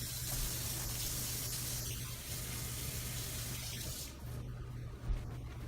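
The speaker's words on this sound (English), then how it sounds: "first step is to wash your hands" Running tap water splashing steadily over hands at a sink, a continuous broadband rush that eases briefly near the end before a small bump of splashing.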